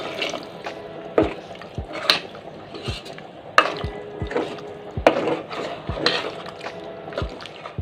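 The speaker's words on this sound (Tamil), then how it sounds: "இப்போ இந்த காய்க்கு தேவையான வேகிறதுக்கு தேவையான தண்ணி ஊற்றிக்கலாம்" Water is poured into a cooking pot of vegetables seasoned with rock salt, with a wet splashing flow broken by repeated sharp clinks and clanks of metal utensils against the pot.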